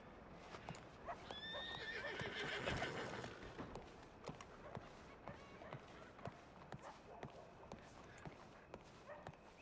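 Horse in a video game gives a loud whinny early on, followed by scattered hoof clip-clops and thumps, with some background noise.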